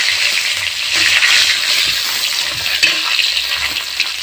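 Whole cumin, bay leaves and dried chillies sizzling loudly in hot oil, a bright continuous crackle with stirring, close up and without speech.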